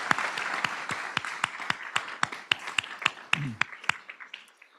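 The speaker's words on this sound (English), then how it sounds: "I'd like to give her a round of applause for her accomplishment" Audience applause at a university convocation for an award recipient, a run of sharp, separate hand claps with a steady rhythm that thins out and stops near the end, no voices over it.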